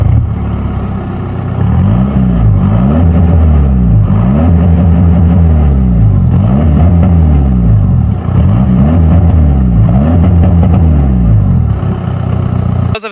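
A tuned diesel car engine with a soft limiter turns over and then revs repeatedly in rising and falling sweeps, loud and close, ending abruptly.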